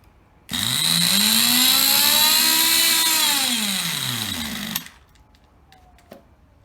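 A Protech Nitro Fun .12 nitro engine on a vintage 2003 RC car roars into life, revving loudly and steadily for about four seconds with a rising then falling whine before cutting out abruptly, followed by faint clicks.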